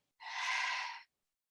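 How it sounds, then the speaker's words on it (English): A deep exhale pushed out through an open mouth at the close of a yoga practice, one breathy, airy release lasting under a second, fairly soft and close, with no talking. "Big breath in, open mouth, exhale, let it go."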